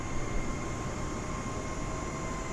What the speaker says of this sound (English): I can hear that APU spooling.